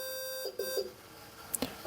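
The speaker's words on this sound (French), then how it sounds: "Vous entendez le bip" A YGE 205 ESC being set up gives a sustained tone followed by several short confirmation beeps and a couple of brief chirps, close and clear with no talking.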